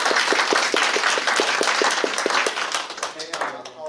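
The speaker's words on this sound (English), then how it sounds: "now let's give Professor Lee another round of big applause" Seminar audience applauding a professor, a brisk even run of claps that thins out and fades near the end while a voice speaks over it.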